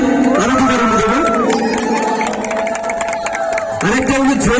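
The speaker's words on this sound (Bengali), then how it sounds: "আর একটা উলুধ্বনি আমরা দিতে বলবো সকলকে 3 বার।" Women ululating together to welcome a guest at a Kali Puja inauguration in Panpur: warbling, high ulu calls rise over a noisy crowd in two loud bursts, with a chorus of voices throughout.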